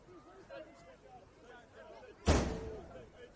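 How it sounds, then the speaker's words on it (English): A football slams into the commentator's box at an NPL Men's NSW match at Popondetta Park, one sudden loud bang that rings briefly and fades, following soft background chatter. "For that loud bang with the ball landing on the commentator's box here."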